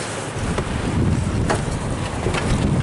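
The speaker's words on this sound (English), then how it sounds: "it's windy outside" Strong wind buffets the microphone outdoors near a house, a loud, continuous low rumble and roar with gusty surges throughout.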